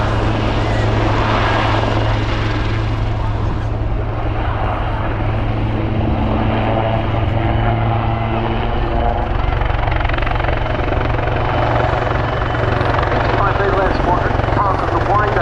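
Royal Navy Wildcat helicopter flying a display at the RAF Cosford airshow, a loud steady rotor and engine roar running throughout with low blade thump, a commentator talking over it on the public address.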